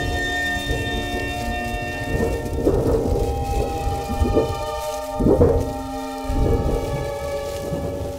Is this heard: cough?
no